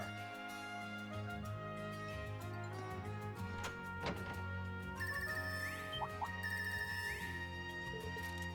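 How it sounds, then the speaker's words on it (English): A phone ringtone plays in the video game Trails of Cold Steel III. The bright electronic chime melody repeats over quiet background game music, with sharp tonal notes and a few clicks. "it's different from the normal ringtone"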